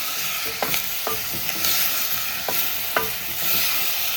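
Carrot and tomato are stirred in a cooking pot over sizzling heat, with a steady frying hiss and several distinct spoon scrapes against the pot, close and alone.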